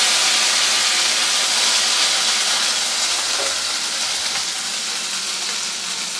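Whole garam masala paste of clove, cardamom and cinnamon fries and is stirred in a pan over low flame, giving a soft, steady broadband sizzle that fades slightly toward the end.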